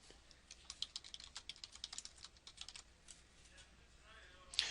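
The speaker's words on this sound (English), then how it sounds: "Now you can type in either fixed text or variable data." Typing on a computer keyboard while entering text into a label design program: a steady run of light, quick key clicks at close range, fairly quiet, with one sharper louder tap near the end and no talking.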